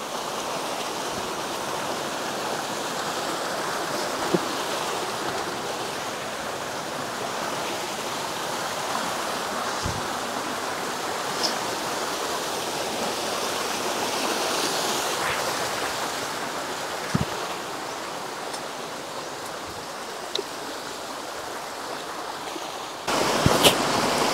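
A mountain stream flows steadily, a broad continuous rush of water close by with no talk, holding an even level throughout with a few small knocks.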